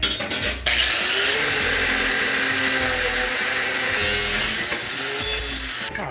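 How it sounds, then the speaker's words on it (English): An angle grinder bites into the steel edge of a griddle, a loud continuous high-pitched grinding whine that briefly drops off near the start and again toward the end, with no talk. "I'm gonna go grind that."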